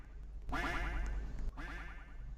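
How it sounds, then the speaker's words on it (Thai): A cartoonish duck in a Roblox game quacks in two bursts of rapid, nasal calls, the first longer and the second shorter, close and fairly loud with only faint background. "มันเป็นเสียงเป็ดค่ะทุกคน"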